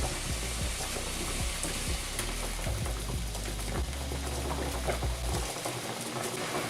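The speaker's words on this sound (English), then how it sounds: "They are both boiling right now, and I'm going to add Jaggery to this," Pots of tamarind boiling as jaggery is added for a sweet tamarind sauce, giving a dense bubbling and sizzling texture with scattered pops and a few soft clunks, close and fairly loud.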